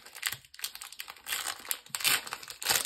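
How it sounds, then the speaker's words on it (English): A Pokémon TCG Brilliant Stars booster pack being torn and pulled open by hand, close crinkling and ripping of the foil wrapper in uneven bursts, rustling throughout with short pauses. "these packs are really difficult to open"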